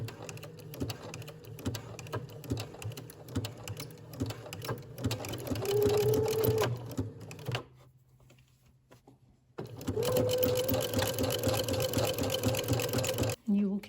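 A sewing machine whirs in steady bursts, stitching a maxi dress bodice around from the underarm seam, pausing briefly before starting again, with a voice talking at times.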